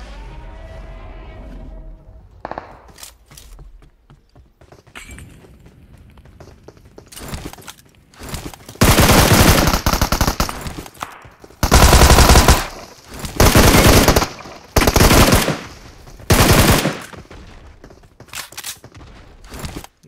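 Gunfire in PUBG Mobile: after a quieter stretch of faint shuffling and scattered sounds, loud bursts of automatic fire erupt repeatedly in sharp, separated volleys.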